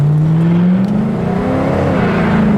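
A 1972 Buick GS 455 pulls hard under acceleration while smoking its tires, the engine droning loud and steady with a rising pitch over a couple of seconds.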